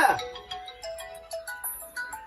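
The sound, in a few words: mobile phone ringtone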